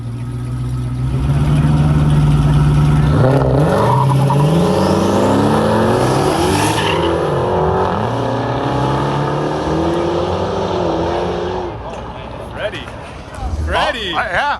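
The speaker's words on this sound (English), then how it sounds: "That's a burnout." A Dodge Charger Hellcat does a burnout, its engine roaring loud and close with sweeping rev changes and tire noise, and people talk over it near the end.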